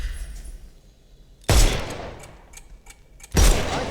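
Gunfire in the video game Sherlock Holmes Chapter One: two sharp loud shots about two seconds apart, each followed by a short rattling tail, close and without speech.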